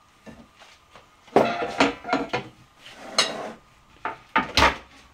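A metal lid is set down on a cooking pot of minced-meat and aubergine tajine, giving a cluster of clattering kitchen clinks and knocks with a few scrapes, fairly close and with no talking.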